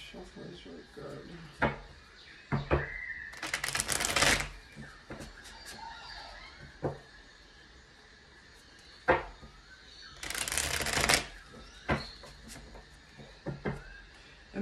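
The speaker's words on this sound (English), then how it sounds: "Let me shuffle this really good." Two bursts of tarot cards being riffled and shuffled, a few seconds apart, with scattered handling noises and light rustling between them.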